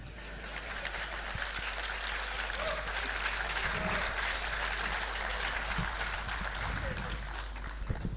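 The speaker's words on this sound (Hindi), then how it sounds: "आप लोगों ने तालियां बजाई" Audience at a Hindi-language talk clapping, continuous dense applause holding steady at moderate distance for the whole stretch with faint murmurs underneath.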